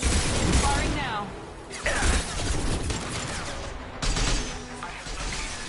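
Bursts of gunfire in the Mass Effect video game, loud, with sharp impacts and crashing debris near 0, 2 and 4 seconds over continuous game noise.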